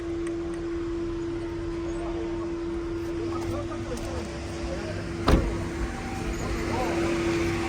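Electric front power windows of a Daewoo Matiz whir steadily up or down inside the car, a continuous motor hum with a brief click partway through.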